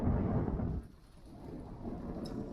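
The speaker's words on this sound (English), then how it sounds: "And you can hear thunder from inside the pickup." Distant thunder heard from inside a pickup truck on dry farmland, a low muffled rumble that fades after a second, then rolls softly again.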